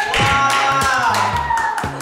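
A single person gives a few brief, sharp hand claps in an office. The claps are close and spaced irregularly, under a background of voices and tonal sound.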